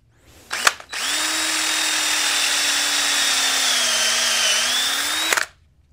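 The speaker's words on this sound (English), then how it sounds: "go ahead and drill out these holes" A power drill bores holes in pallet wood through a jig: a brief trigger blip, then one loud, steady high whine lasting several seconds before cutting off abruptly.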